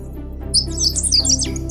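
A short run of high, bright sparrow chirps and squeaky tweets, close by, over a low steady hum.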